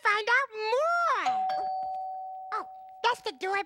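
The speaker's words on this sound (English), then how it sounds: "That's the doorbell." A doorbell chimes with a sustained ringing tone that lingers under a child-like voice talking excitedly before and after it.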